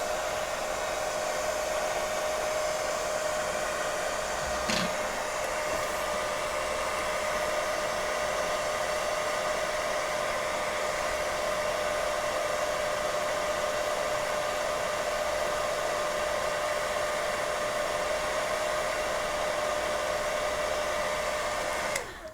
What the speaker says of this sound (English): So heat gun or a hair dryer, whatever the case is